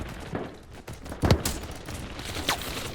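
Gunfire from the multiplayer shooter BattleBit Remastered: a few scattered shots over busy game ambience, with one heavier near blast around the middle and a sharper crack later.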